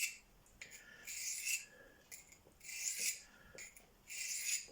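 A knife is drawn with light pressure across a hand-held Venev diamond stone, making quiet, gritty rasping strokes in a slow back-and-forth rhythm, each stroke a few hundred milliseconds apart. No one speaks.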